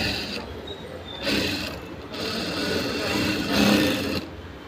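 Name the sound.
sewing machine stitching a lining edge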